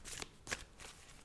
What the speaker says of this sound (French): Je vais retirer une autre carte quand même